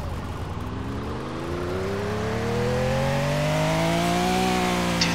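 Mercedes G-Wagon engine revving up steadily, its pitch climbing over several seconds into a sustained, rising drone before leveling off, heard alone without talk.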